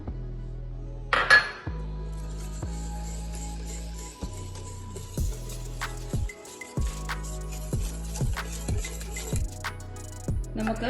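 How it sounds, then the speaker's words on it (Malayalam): A spoon stirs a mango sago drink in a glass or bowl after a pinch of salt goes in, with a rapid series of close metallic clinks and taps against the container. "നമുക്ക് നല്ലതായിട്ടൊന്ന് മിക്സ് ചെയ്തെടുക്കാം. നമുക്കിനി ഒരു നുള്ള് ഉപ്പിട്ട് കൊടുക്കാം."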